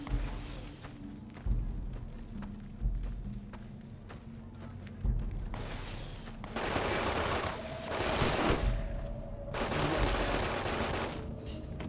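A nail gun in Fallout: New Vegas fires a series of thumping shots at a steady pace, then gives way to dense bursts of rapid gunfire and loud game combat noise.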